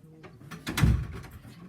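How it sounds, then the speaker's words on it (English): A door shut indoors in a quiet room during a home sewing session, a single dull thump close by with a short rattle around it. "Shall I shut the door?"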